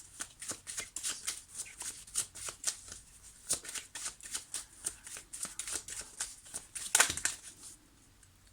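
Tarot cards are shuffled and drawn by hand, giving a rapid run of crisp riffling flicks and slaps with a sharper snap near the end, close and alone without talk.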